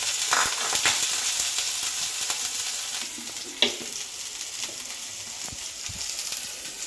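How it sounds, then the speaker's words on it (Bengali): Whole cumin, onion, garlic and tomato spice mix frying in a pan, a steady soft sizzle with scattered spatula stirs and one sharper clink midway. "মশলাটাকে একটু ভেজে নিচ্ছি"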